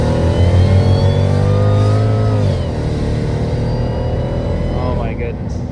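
A Mercedes E55 AMG accelerates hard with traction control off, its engine note rising loud and close, then easing back as the pull continues under a speaking voice inside the cabin.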